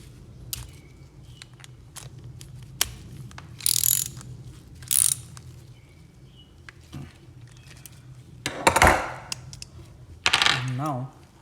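Metal clicks and ratcheting bursts from a 10 mm wrench tightening fasteners on a lawnmower carburetor, several short separate bouts with quiet gaps between, close by.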